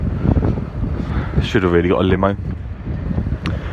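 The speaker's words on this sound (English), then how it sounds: "It's gonna be windy out here." Wind blowing outdoors on a city street, buffeting the microphone as a low, gusty rumble that persists under close talk and a brief tonal passage midway.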